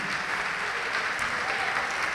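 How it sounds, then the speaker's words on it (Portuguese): A congregation applauds during a Brazilian church sermon, dense continuous clapping from many hands filling the room at close, even volume. "Vamos aplaudir o Senhor e se coloque de pé no seu lugar."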